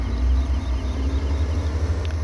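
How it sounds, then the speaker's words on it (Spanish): Tractor engine in the Farming Simulator 17 video game, a steady low diesel rumble with a faint hum above it, running continuously and fairly loud with no speech. "Encendemos el tractor."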